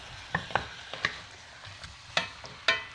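Tater-tot casserole filling browning in a pan: a faint, steady sizzle broken by scattered scrapes and taps of a utensil stirring, close and quiet with no talking.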